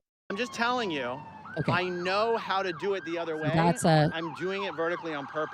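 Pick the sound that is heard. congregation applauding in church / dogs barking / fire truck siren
fire truck siren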